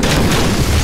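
A grenade blast in the video game Half-Life 2: Episode 2, a loud, dense, rumbling boom that fills the whole short moment with low-end roar.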